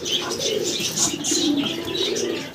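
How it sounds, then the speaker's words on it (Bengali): Several pigeons coo in soft, overlapping throaty rolls at a pigeon market, with faint chirps above. The sound is close and continuous, with no talk. "দর্শক আমরা আরও এক জোড়া চমৎকার কবুতর দেখতে পারতেছি"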